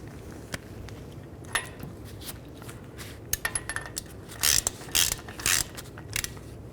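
Hub nut being loosened on a Ford E-250 front wheel, a series of metallic ratchet clicks and clanks from the tool, with a few louder bursts of clattering near the end, close and alone.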